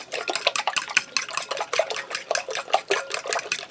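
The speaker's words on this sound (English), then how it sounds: "You just want to scramble your eggs good" Eggs being briskly whisked in a bowl with a fork or whisk for potato stuffing, a fast, steady clicking and sloshing rhythm of metal against the bowl, close up with no talking.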